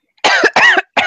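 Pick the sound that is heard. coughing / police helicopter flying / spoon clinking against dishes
coughing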